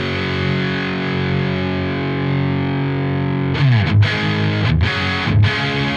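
Telecaster single-coil electric guitar played through an amp with distortion, a sustained, thick, fuzzy chord ringing alone, then a few sharper strummed or muted hits near the end.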